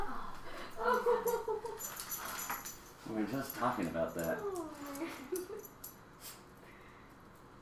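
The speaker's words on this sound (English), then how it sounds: "our dog's stuck under the bed" A dog stuck under a bed whimpers in short, high, whining bursts, mixed in with people talking nearby.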